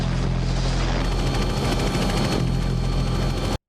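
Helicopter chasing a dog across snowy Antarctic terrain in The Thing (1982), a loud, dense rotor thump with rapid gunfire-like cracks throughout, cutting off abruptly.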